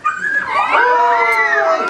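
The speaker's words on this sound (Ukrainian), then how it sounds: "Песик як загавкав" A dog in a children's stage play of the Ukrainian tale The Mitten gives a loud, close burst of yipping, whining barks that lasts under two seconds.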